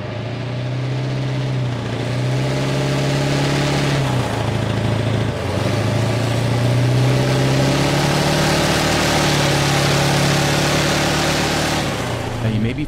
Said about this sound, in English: let's first take a listen to the CTAS engine